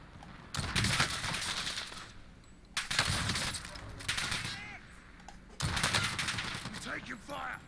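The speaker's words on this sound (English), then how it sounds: "I'm taking fire." Gunfire bursts in Call of Duty Warzone (Modern Warfare battle royale), several loud volleys at irregular intervals with game sound effects between them.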